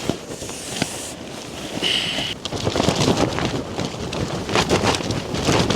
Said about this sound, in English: Oh my goodness, this wind